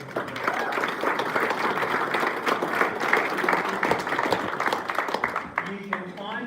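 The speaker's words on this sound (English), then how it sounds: "I encourage you to give Lindsay and his team a round of applause" An audience at a climate change debate applauds Lindsay and his team, with dense, steady clapping that runs for several seconds and thins out near the end, mixed with voices.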